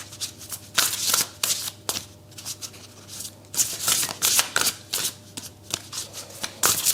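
Tarot cards shuffled and handled at close range in repeated brisk riffling bursts, with short pauses between flurries as cards are drawn.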